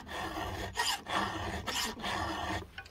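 A hand file rasps against a chainsaw chain in quiet, rhythmic strokes, each push a gritty scrape followed by a short pause, about four passes in all.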